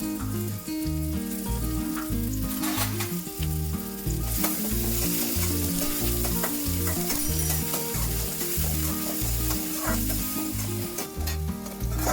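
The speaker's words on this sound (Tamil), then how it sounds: "கொஞ்சம் போல் கருவேப்பிலை எல்லாம் போட்டு நல்லா வதங்கட்டும்." Onion and curry leaves sauté in hot oil for a crab fry, giving a steady close sizzle that runs the whole time beneath a rhythmic background music track.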